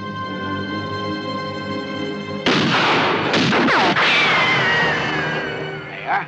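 Gunfire in a 1958 Western shootout: after a quiet stretch of background music, a sudden burst of loud, close shots breaks out, followed by sharp ricochet-like whines and crashing that fade toward the end.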